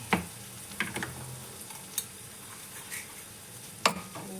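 Onions sizzle in a pan with tomatoes and spices, making a steady frying hiss. A few sharp clinks and scrapes from stirring cut through the hiss, and no one speaks.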